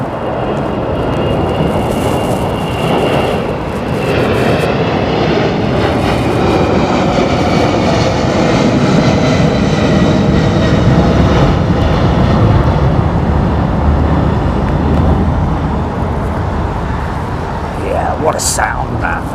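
Heavy jet airliner engines, Pratt & Whitney or CF6 types, roaring loudly and steadily at Heathrow Airport for the whole stretch, a broad, rumbling wash with a rising whine near the end.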